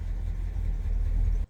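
A 1964 Plymouth Fury idles with a steady, low engine rumble heard from inside the cabin, even and unrevved for the whole short stretch.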